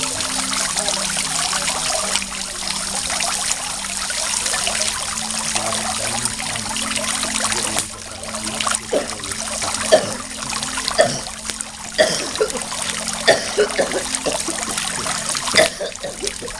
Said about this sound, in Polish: Podejdź tutaj do tej fontanny uzdrowiącej